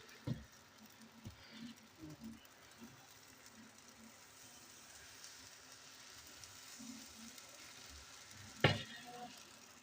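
Chitoi pitha batter sizzling on a hot tawa set over a clay stove, a faint low crackle with a few soft knocks and one sharp scrape or clink near the end.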